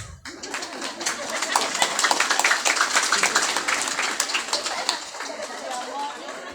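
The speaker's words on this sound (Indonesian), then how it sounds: "Orang nak sing tepuk tangan." An audience at a haul religious gathering for Syekh Abdul Qadir Al-Jailani claps in a dense, sustained patter for several seconds, fairly loud and close, before it thins out. Voices are faintly mixed in.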